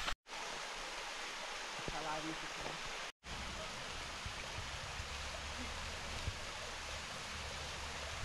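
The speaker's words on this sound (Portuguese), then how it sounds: "Cachoeira, ó, fica bem ao lado da pista, né, da estradinha" A steady broadband rush of falling water fills the scene, a constant hiss of a roadside waterfall close by with a brief cut near the start.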